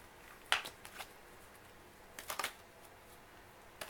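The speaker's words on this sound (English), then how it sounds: "I'm not taking them all. We're going to reshuffle." Tarot cards shuffle softly nearby in two brief bursts of riffling and flicking, with quiet room tone and no voice between them.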